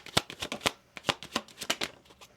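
Tarot cards are shuffled and laid out in quick, crisp bursts of riffling and slapping, close and clear, with brief pauses between.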